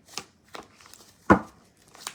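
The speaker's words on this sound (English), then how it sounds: "This is the last shuffle" Oracle cards being shuffled by hand, heard as a few brief, soft riffling and flicking bursts spread across the moment, with one louder snap near the middle and quiet gaps between.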